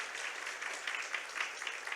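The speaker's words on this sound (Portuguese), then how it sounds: "Eu queria uma salva de palmas para todas essas pessoas que" An audience claps at a church book launch evening, a steady patter of many hands at moderate distance that keeps going for a couple of seconds with no voices on top.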